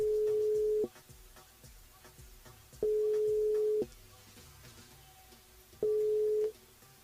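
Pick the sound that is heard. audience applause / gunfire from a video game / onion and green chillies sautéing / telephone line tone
telephone line tone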